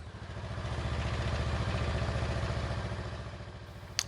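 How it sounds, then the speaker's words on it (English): A 2021 Honda Rebel 500 idling during winterizing after refueling; a steady, even thumping engine pulse, close and constant, swelling slightly then easing, with a short sharp click at the end. "close the fuel cap and turn on the bike. Let it run for about 5 to 10 minutes"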